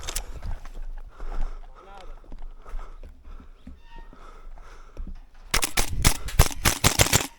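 A Noveske N4 gas blowback airsoft rifle fires a rapid string of sharp, cracking shots close by during an airsoft game, following a stretch where players talk in Portuguese.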